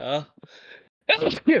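A single sharp sneeze bursts out between brief bits of casual talk among people indoors.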